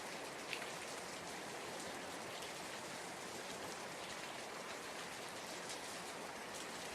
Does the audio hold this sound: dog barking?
no